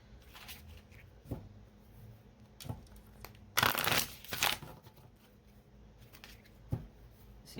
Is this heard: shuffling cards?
yes